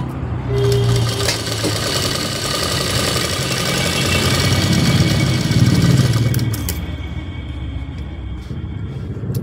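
Sewing machine stitching a blouse seam, running as a steady continuous mechanical whir with a low motor rumble for most of the stretch, then easing off near the end; no one speaks.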